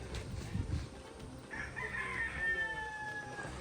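A rooster crows loudly, a long drawn-out call rising and holding, with some clucking and rustling beforehand.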